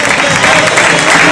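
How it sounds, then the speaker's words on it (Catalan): Crowd applause greets the giant and small giant figures of the Bellvís group at a Tortosa giants' gathering: steady dense clapping throughout a short stretch, fairly loud and close, with no pauses. "I ara aquests aplaudiments per a rebre els gegantons i els gegants de l'agrupació."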